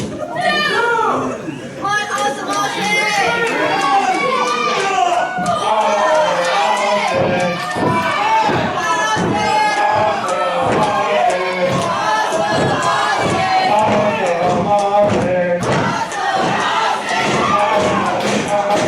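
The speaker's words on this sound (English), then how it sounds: "This crowd is going crazy tonight for awesome Austin Martin." A pro wrestling crowd cheers and shouts wildly during a live independent show, a loud continuous roar of voices with yelling on top and no break.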